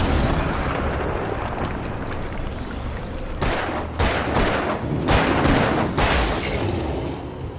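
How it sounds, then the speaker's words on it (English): A flashbang in the video game Alan Wake goes off as a string of sharp, loud bursts over a constant rumbling game ambience. "Let's lose one flashbang here and then switch to flare."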